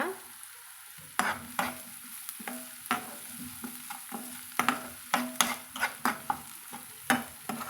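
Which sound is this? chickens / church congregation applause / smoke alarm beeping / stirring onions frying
stirring onions frying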